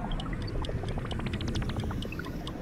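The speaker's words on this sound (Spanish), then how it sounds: "Se ha caído al agua." In Zelda: Tears of the Kingdom, a ball drops into swamp water with a splashing, bubbly pour of rapid droplets that lasts a couple of seconds, close and moderately loud.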